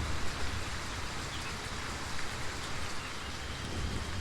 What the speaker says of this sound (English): That rain is ever so loud.